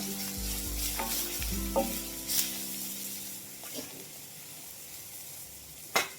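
Green chilli and garlic sizzle steadily in an oil-filled pan with turmeric added, producing a continuous close frying hiss broken by a few sharp spatters and stirring clinks, with no talking.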